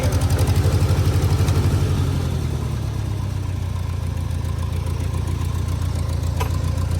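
An older piece of equipment's engine idles steadily close by, a loud low rumble with a fast even pulse that eases slightly after the first couple of seconds and then holds, with a brief click near the end.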